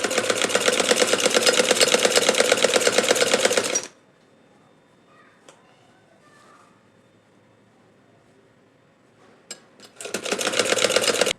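A sewing machine stitching a baby frock runs loudly and steadily for a few seconds, then stops for a quiet stretch with faint handling sounds while the fabric is turned, before stitching resumes at the end.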